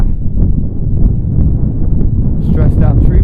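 Strong gusting wind at Pelham Bay Park after Hurricane Irene buffets the microphone with a loud, continuous low roar, with a brief faint rustle near the end.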